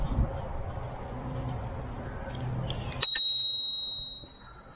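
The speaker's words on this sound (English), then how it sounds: "Comes with an integrated bell." An integrated handlebar bell on a Senada Saber 1000W fat-tire ebike is struck once with a bright, close ding that rings out and decays over about a second after a stretch of low background rumble.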